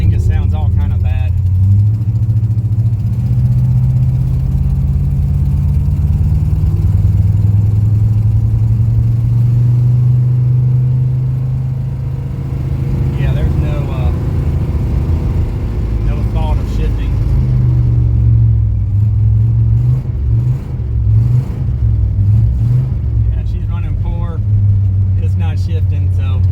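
A Lincoln car with transmission problems idles and runs rough, a loud, steady low engine rumble that wavers and surges slightly over a long stretch, with someone talking briefly partway through.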